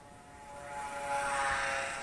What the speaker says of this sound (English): Looks like it's holding nice and straight and level.